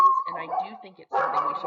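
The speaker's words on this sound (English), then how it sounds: "That's my dog." A pet dog barks and yips in short bursts close by, mixed in with a person talking continuously.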